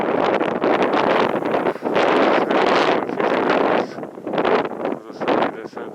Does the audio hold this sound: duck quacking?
no